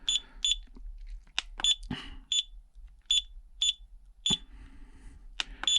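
Low-voltage alarm on an LDARC CT01 budget 8-channel car and tank radio: sharp high-pitched electronic beeps in an irregular series, some in quick pairs, with faint background handling noise and no speech.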